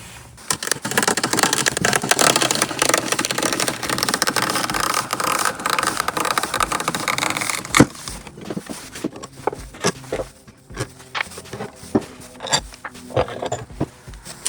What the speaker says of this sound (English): when I tighten this screw on the end, it's going to push the socket into the bushing and drive it into this cup